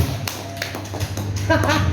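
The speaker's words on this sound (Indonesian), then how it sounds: "Mari kita tepuk tangan masing-masing" Audience members clap their hands at a school gathering on positive culture, a sparse, uneven patter of taps close by, growing a little denser toward the end over a steady low hum.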